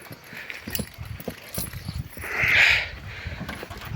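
A mare's hooves clip-clop in a steady walking rhythm on a hard surface, close by, with a brief higher whine partway through.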